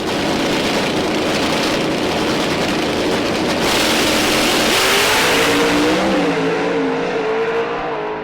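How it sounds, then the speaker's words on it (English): A pro stock drag race car accelerates hard down the strip, a loud, roaring engine that builds and then climbs in pitch as it pulls away, with no voices over it. "It's a drag race, but a JR car pulls it out, moves on to the next round of eliminations."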